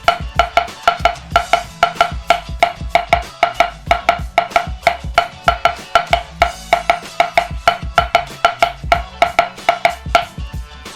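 A snare drum plays the B section rhythm of a double stroke roll exercise, with steady, close, crisp strokes and quick doubled hits repeating in an even pattern, alone without talk.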